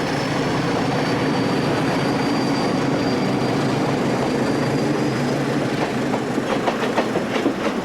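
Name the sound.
Portuguese CP class 1400 diesel locomotive train passing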